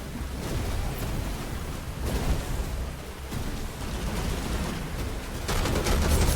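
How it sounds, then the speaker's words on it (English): Dense gunfire with rapid bursts and booming explosions in the video game Phantom Brigade, loud and continuous, growing heavier near the end. "shots out, double teaming, explosions going off"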